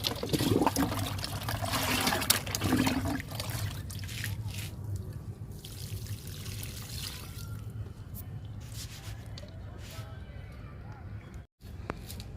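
Liquid fertilizer is poured onto potted flower plants, giving a soft, near trickle and drip of liquid with a person talking over it.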